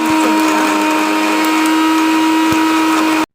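Mixer grinder jar whirring steadily as it grinds a masala of green peppercorns, chilli powder, turmeric and salt for fried small mackerel, a loud continuous motor drone that cuts off abruptly at the end.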